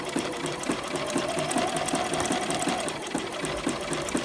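A sewing machine runs a zigzag stitch to attach picot-edge elastic, a fast, even mechanical chatter of needle strokes held at a steady pace and fairly loud throughout.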